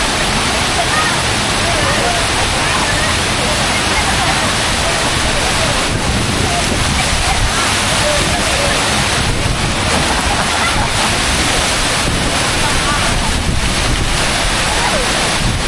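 A waterfall near Chennai roars in a loud, unbroken rush of falling water, dense and close, with wind buffeting the microphone throughout.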